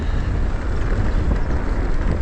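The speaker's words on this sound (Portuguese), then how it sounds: "Tá ventando." Wind buffeting a microphone outdoors on a mountain bike trail, a loud continuous low rumble with no talking.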